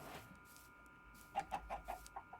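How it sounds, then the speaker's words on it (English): Chickens cluck in a survival video game, a run of six short, clear clucks in quick succession after a quiet stretch of low game ambience. "There's so many chickens here."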